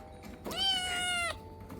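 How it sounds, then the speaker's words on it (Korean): Kittens meow in a cat café in Tokyo, a single drawn-out, bright mewing call lasting under a second, close and clear over a quiet room hum. "아기 고양이들은 보기만 해도 심장이 녹네요."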